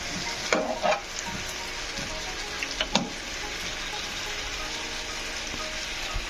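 Food being flipped and stirred in a hot frying pan: continuous sizzling with a few sharp scrapes and clinks of a utensil early on, then steady frying hiss.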